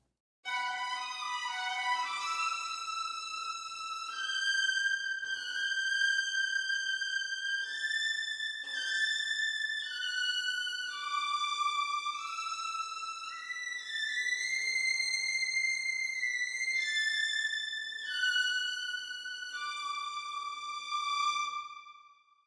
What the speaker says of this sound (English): Let's have a listen to only violins 1 and see how they sound and in the strongest fortissimo.